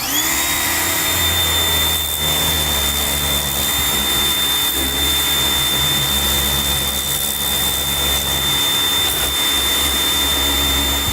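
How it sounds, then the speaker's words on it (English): A pressure washer sprays water onto an old John Deere tractor in a continuous loud hiss with a steady high whine, with no pauses over several seconds and nobody talking. "I got to give the old John Deere tractor a shower"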